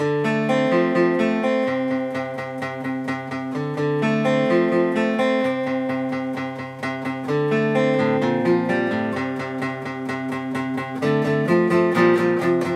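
Guitar strumming a song's chorus at full tempo, a steady, busy rhythm of bright chords ringing on without pause, played alone and fairly loud with no talking.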